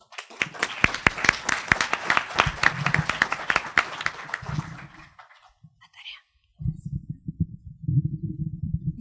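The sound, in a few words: audience applause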